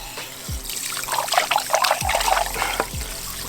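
Salted bream is rinsed under a running kitchen tap: steady trickling and splashing water, close and continuous, with a few low thumps as the fish is handled.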